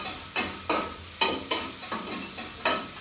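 Onion and carrot sautéing in a pan, browning while being stirred, giving a steady sizzle broken by about seven regular scraping stir strokes, close and clear with no talk.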